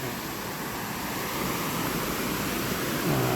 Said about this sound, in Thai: ก็เป็นน้ำตกไม่ใหญ่มาก